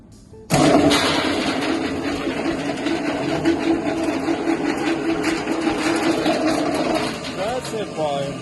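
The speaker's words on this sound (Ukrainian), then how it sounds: "запускаємо наш гранулятор" An OGP-260 pellet mill for making animal feed starts with a sudden onset and then runs with a steady, loud mechanical whirring and rumble, while a voice talks over it near the end.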